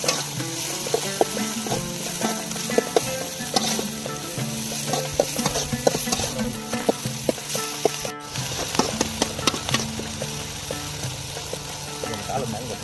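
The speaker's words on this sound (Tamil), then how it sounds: "இப்போ இஞ்சி பூண்டு பேஸ்ட் போட்டுக்கலாம்" Ginger garlic paste stirs and fries in a village-style chicken gravy, a steady sizzle with repeated scraping strokes of a spoon against the pot, loud and close, while voices talk over it throughout.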